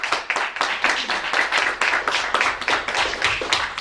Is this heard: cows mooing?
no